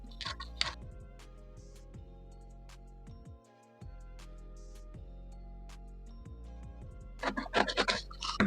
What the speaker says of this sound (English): I'll go ahead and cut out the rest of the front pattern